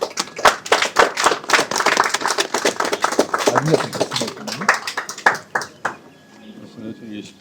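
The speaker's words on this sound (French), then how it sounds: "Applaudissements." A crowd applauds, with dense, steady clapping that thins out into a few scattered claps near the end.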